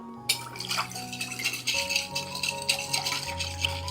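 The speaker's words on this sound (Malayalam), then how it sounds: "ഇതിലേക്ക് 1 ടീസ്പൂൺ ഉപ്പും കൂടി ചേർത്ത് ഒന്ന് മിക്സ് ചെയ്തെടുക്കാം" Egg white and salt mixed in a bowl for a layered Iftar dish give light rattling, tapping strokes of a utensil against the bowl, a quick irregular series close by with no talk.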